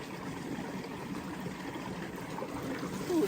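An ice-cold glacier-fed mountain stream on Mount Whitney runs and trickles close by in a steady, soft wash of water, with no voices.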